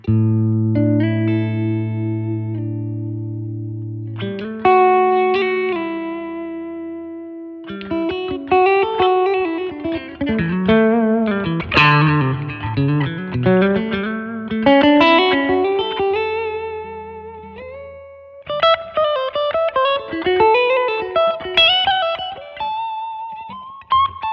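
Signature electric guitar with noise-cancelling P90 pickups in the middle position, played alone as sustained chords followed by picked melodic runs and bends, with distortion and reverb.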